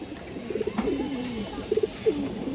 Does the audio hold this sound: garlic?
no